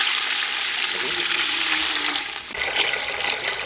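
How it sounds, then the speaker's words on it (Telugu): Water is poured into a cooking pot while making spiny gourd (boda kakarakaya) dum biryani, a steady hissing splash that runs throughout and eases slightly near the end. "నీళ్ళు వేసుకున్నాం."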